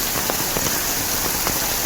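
Sudden heavy downpour drums on surfaces in a Konkan village, a loud, close, continuous wash of rain with scattered sharper drop impacts.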